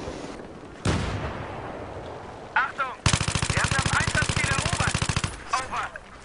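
Rapid machine gun fire rattles in a sustained burst of dense, evenly spaced shots in the video game Battlefield 3 multiplayer, loud and close, after quieter game ambience.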